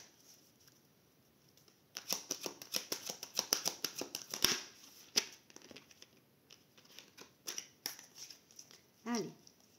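A deck of tarot cards is cut and shuffled by hand, with a flurry of crisp close riffles and slaps, then scattered softer card handling and a brief rustle near the end.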